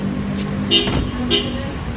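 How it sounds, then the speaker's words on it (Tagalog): Two short car horn toots ring out close by over a steady hum of traffic in Tagaytay. "eto pala yung busina"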